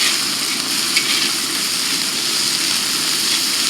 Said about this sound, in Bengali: আদা রসুন পেঁয়াজের সাথে টমেটোটা একটু ভেজে নেব